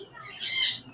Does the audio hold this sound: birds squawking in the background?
yes